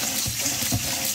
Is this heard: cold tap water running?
yes